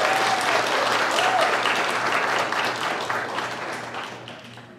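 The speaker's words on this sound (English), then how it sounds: "So please give a round of applause to them." Concert audience applauding a violinist and his pianist accompanist, dense crowd clapping loud at first and gradually fading away over several seconds, alone without talk.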